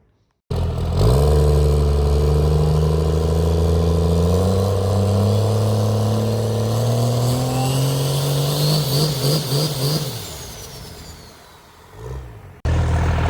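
A modified car engine fires up and revs hard and repeatedly, the pitch climbing in long sweeps while a turbo whistles and spools up and then flutters off. The sound is loud and close, with no voices.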